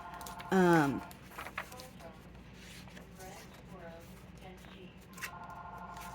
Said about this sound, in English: There goes my phone. I am not going to answer.